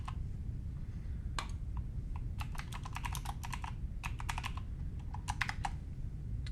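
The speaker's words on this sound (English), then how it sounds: "You can hear some of the sounds from the keyboard as I'm using it here." Typing on a Nanoxia Ncore Retro aluminum keyboard: clusters of crisp, quick key clicks in uneven bursts, close by over a low steady background hum, with no talking.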